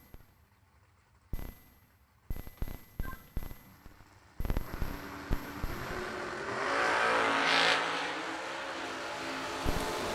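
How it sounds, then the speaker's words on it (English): Drag racing between a Roadster and a first-gen Camaro: a series of sharp mechanical clanks and pops, then a loud engine roar swelling as the cars launch and run, heard from a distance with a ringing bell at the start. "606 the number for the first-gen Camaro of Billy Billy Farrell in the right."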